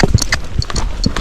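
Hooves of a Tennessee Walking Horse, a gaited breed, clip-clop on a trail in a quick, steady run of close, distinct beats with no other sound.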